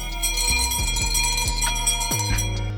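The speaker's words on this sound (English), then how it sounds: "for the growl, it's purely just the bell shaking" Dinosaur growl in the Roblox game Dinosaur Simulator, made purely of a shaking bell, sounds as a continuous ringing, rattling bell tone with rhythmic low knocks throughout.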